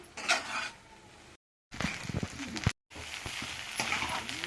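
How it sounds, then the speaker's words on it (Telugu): Fried rice and vegetables are stirred in a pan with scraping, clinking utensil strokes in uneven bursts, interrupted by two brief silences. "రైస్ వెజిటేబుల్స్ అంతా కలిసే వరకు మంచిగా"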